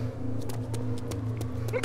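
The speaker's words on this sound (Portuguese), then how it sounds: "Não estão a ouvir o autocarro!" Low, steady engine hum of a bus idling close by in the video game DayZ, with faint ticking and clicks on top, ending in a sudden louder burst.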